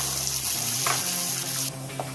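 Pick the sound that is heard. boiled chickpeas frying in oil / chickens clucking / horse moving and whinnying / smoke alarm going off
boiled chickpeas frying in oil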